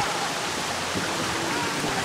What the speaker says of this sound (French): Et là, on voit mieux la cascade.